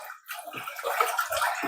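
Tap water runs into a cooking pot for boiling spaghetti noodles, a brief splashing, gurgling pour close by after a short gap, with no talking.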